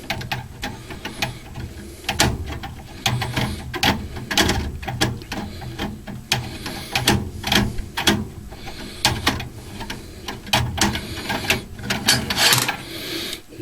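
Screws being backed out of a sheet-metal furnace panel with a hand tool during a flame sensor replacement, giving a close, steady run of small metallic clicks, scrapes and ratcheting taps with no talking.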